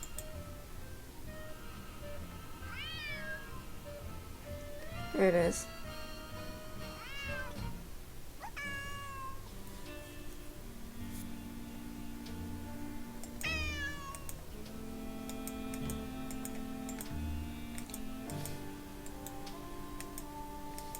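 Several short, rising meows from a cat in the video game Nancy Drew: Secret of the Old Clock, spaced through a quiet game scene with a soft ticking clock in the background.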